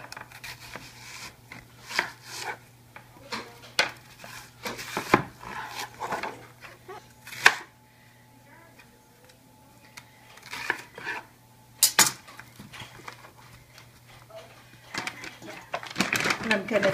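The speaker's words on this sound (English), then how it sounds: "I'll just quarter it, eighth maybe, and throw it on in there" A knife chops a large onion on a cutting board, producing scattered sharp knocks spread unevenly over the stretch, and pieces are tossed into a pot, while a person talks steadily throughout.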